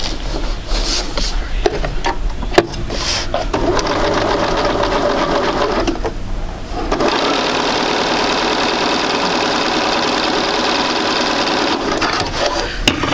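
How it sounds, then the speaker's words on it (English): A sewing machine stitches quilt pieces, its rapid mechanical whirring and needle chatter running steadily and close, pausing briefly midway before resuming at a brisk, even pace. "Okay, go ahead and sew that one."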